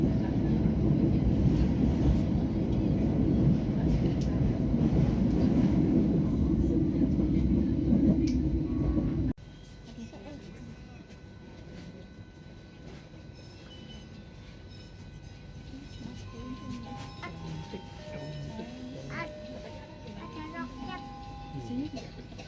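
An Indonesian commuter train rumbles loudly and steadily for several seconds, then the noise drops to a quieter hum inside the carriage while a voice speaks over it.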